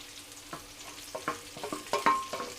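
Onion sautés in a pan with browned ginger and garlic, giving a gentle sizzle under a series of scraping stirring strokes that build toward the end.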